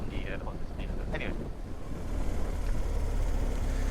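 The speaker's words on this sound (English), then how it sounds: "It is windy though. It is quite windy actually. Which you might actually hear on the screen." Strong wind buffets the microphone during slow-speed riding exercises on a 1250 GS motorcycle, a constant low roaring rush that grows heavier partway through, with a faint voice briefly audible early on.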